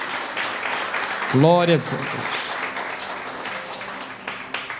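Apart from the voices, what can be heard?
congregation applause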